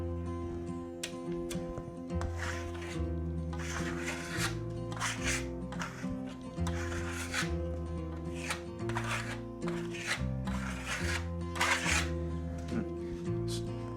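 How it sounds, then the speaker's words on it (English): A trowel rubs Venetian plaster smooth on a wall in quick, repeated rasping strokes, heard close over steady background music. "Take a little extra plaster and rub it out, this, and it'll come right out."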